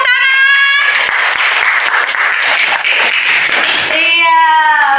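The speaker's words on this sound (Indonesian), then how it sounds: "Iya, beri tepuk tangan." Students in an Indonesian-language classroom break into a few seconds of lively clapping, loud and close, framed by sustained tonal sounds just before and after the burst.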